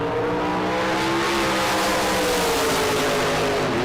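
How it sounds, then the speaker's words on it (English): Drag race cars scream down the strip at a big-money drag racing event, a loud continuous engine roar with rising and falling pitch, dense and close throughout. "Logan Ward drives by at the finish line for 8th thou, and he wins the drag race"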